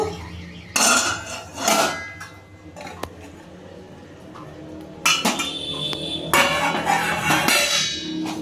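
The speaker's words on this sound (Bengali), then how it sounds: "এবার ঢাকাটা খুলে দেখে নেব।" A metal lid comes off a cooking pot used for a dhokar dalna egg dish, giving bursts of close, loud clattering and clinking of metal cookware separated by quieter pauses.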